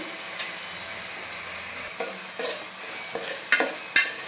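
Green chillies and salt fry in a pan, a steady close sizzle broken by several sharp stirring scrapes and clacks of a spoon against the pan toward the end, no talk.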